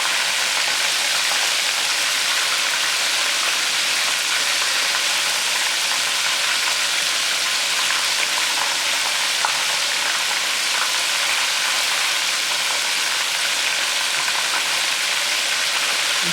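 Shrimp deep frying in a preheated pot of hot oil, a dense, steady hiss and crackle of bubbling oil that holds at an even, close level throughout with no talking.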